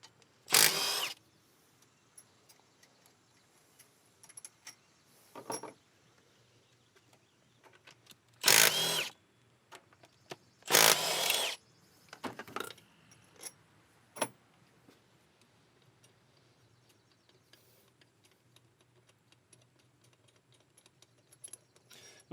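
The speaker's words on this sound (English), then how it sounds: "And start unbolting our compressor." A power tool removes bolts from a Subaru A/C compressor, with several short separate bursts of whirring spread between long quiet gaps and light clinks of tools and parts.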